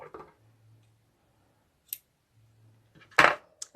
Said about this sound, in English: I'm going to snip that one off